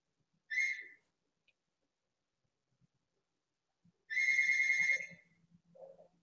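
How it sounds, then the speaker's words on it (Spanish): Telephone ringtone chiming during a live stream, with a short electronic tone followed by a longer one after a pause, clear and close against near-silence, and faint talking at the end. "Ese es el teléfono mostrando que estamos en vivo."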